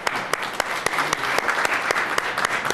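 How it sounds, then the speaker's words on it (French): Audience applause at a political press event in Quebec, a brief round of dense clapping from a small crowd with a few sharp individual claps standing out, no speech over it. "On vous applaudit, tout le monde."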